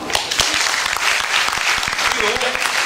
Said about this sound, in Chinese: 给人万人迷鼓掌。